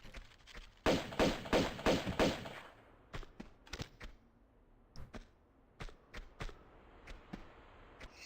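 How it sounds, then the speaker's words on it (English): Gunfire in a video game blasting spiders, starting as a rapid loud burst of sharp shots, then scattered single cracks spaced irregularly, with no talking. "I like how the spiders explode when you shoot them."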